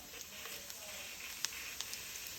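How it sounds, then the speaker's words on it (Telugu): Cumin seeds dropped into hot oil for a brinjal curry, giving a faint, steady sizzle with a few tiny pops, heard alone. "కొద్దిగా ఆయిల్ పోసుకొని ఆయిల్ వేడైన తర్వాత ఇప్పుడు కొంచెం ఇందులో జీలకర్ర"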